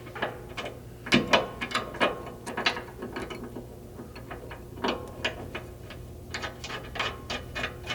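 Ratchet clicks in short bursts of rapid ticking with pauses between, close and crisp, as a 1/2 inch button head bolt with flange locking nut is tightened on a gas tank skid of a 100 Series Land Cruiser.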